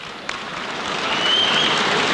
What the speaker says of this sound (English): Warm applause from John Davidson sitting alongside me here